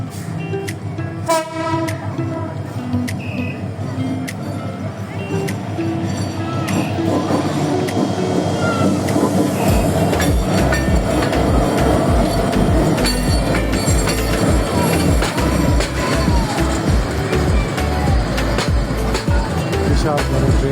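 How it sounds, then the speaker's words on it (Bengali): A long train approaching and passing near the Karnaphuli river sounds a few horn blasts at first, then builds into a loud, close, continuous rumble and clatter of wagons rolling by. "বিশাল বড় ট্রেন, আসতে অনেক সময় লাগবে"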